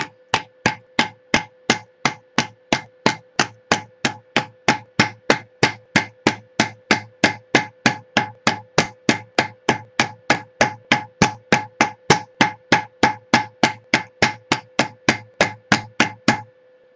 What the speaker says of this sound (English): you'll notice I'm using a very small small hammer